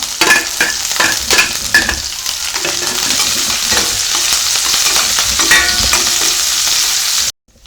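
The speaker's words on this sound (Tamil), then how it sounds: "எல்லாம் போட்டு நல்லா வதக்கியாச்சு" Loud, steady sizzling as onions, garlic and chillies sauté in a hot pan, with stirring scrapes throughout, cutting off abruptly near the end.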